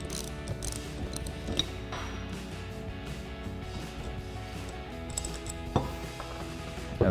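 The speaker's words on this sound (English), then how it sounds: "So now I'm gonna start off by taking a 15mm socket and 18mm wrench" A 15mm socket and 18mm wrench work a brake caliper bolt loose on a 2012-2020 Dodge Challenger, giving quiet ratcheting clicks and metallic taps, with a few sharper clanks near the end.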